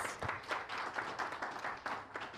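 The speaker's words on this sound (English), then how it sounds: "Give them a round of applause" A crowd at a diaspora homecoming convention gives a round of applause, a steady, soft wash of many hands clapping heard from a little distance, with no talk over it.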